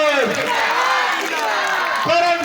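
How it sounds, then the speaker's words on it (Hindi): A crowd at a Bhim Army gathering cheers and claps in honour of the district president. Loud, dense voices and clapping fill the scene, with shouted slogans rising over the noise. "जोरदार जयकारों से आप जो भी ताली जाएंगे"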